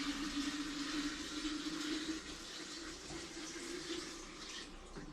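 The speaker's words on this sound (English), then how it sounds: "The reason I'm pouring from way up in the air is because it stirs up the water better." Water poured from high up splashes steadily into a container to mix in beneficial nematodes, a continuous rushing gush that softens slightly partway through.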